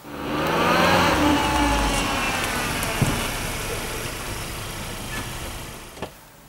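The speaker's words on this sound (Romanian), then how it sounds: "În realitate, automobilul s-a deplasat cu spatele înainte, a frânat și s-a oprit." A car reverses, brakes and comes to a stop, with a steady engine and road noise that fades gradually, broken by a few small knocks.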